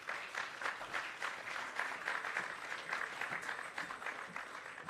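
Applause from an audience at a Jamaican highway improvement project ceremony, steady and fairly loud, with a dense wash of clapping lasting throughout and no pauses.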